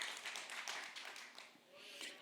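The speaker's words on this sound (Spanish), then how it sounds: "Vamos a dar un aplauso al Señor" Applause during a church service, a short burst of dense clapping with scattered taps, fairly close and continuous under faint talk.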